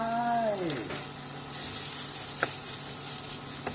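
Minced pork stir-fries with garlic in a hot pan, a steady close sizzle with a few spatula scrapes, after a short falling tonal whine at the start.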